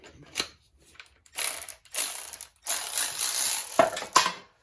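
A socket ratchet turns bolts during a lift kit install in short bursts of rapid clicking. The bursts are close and loud and are separated by brief pauses.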